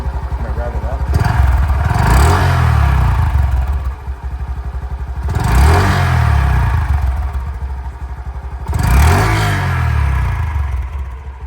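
A Honda Dax 125 motorcycle engine revs hard three times, each rise in pitch followed by a drop back to idle, loud and close, with brief speech between.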